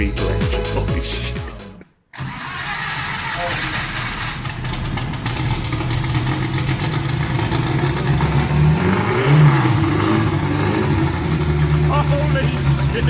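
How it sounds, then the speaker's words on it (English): A 450 horsepower Volkswagen Beetle engine runs loud and close, idling roughly and then revving and rising in pitch after a brief dropout, with a person speaking over it. "450 horsepower Beetle engine"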